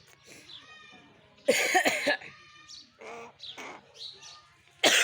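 A talking myna bird imitates a human cough, producing several loud, harsh cough-like bursts among softer chirps and whistled calls, with quiet gaps in between.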